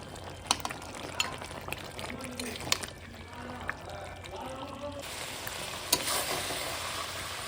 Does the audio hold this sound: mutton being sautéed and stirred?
yes